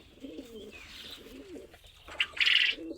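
A racing pigeon coos softly and low at close range, then gives a sharper, louder burst of calls near the end over a quiet background.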